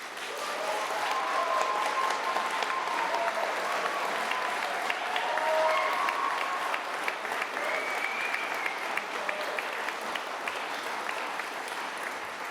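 Sustained applause from a debate audience backing the side arguing that democratic leaders are better prepared for climate change, a thick, even wash of many hands lasting over twelve seconds, with scattered voices and a few whoops rising above it.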